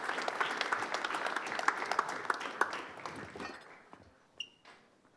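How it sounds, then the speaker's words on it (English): Audience applause at a university pitch competition evening as a presenting team takes the stage, a dense burst of clapping that thins and fades out toward the end, leaving a few isolated claps. "Please give Aquawise a big round of applause."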